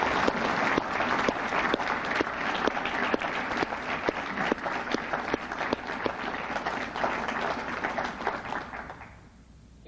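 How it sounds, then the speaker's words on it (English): Audience applause at a retirement event: a large room of people claps steadily with some sharper individual claps standing out, sustained for most of the time before dying away at the end. "if you would acknowledge the contributions that they've had by perhaps giving a moment of applause to them"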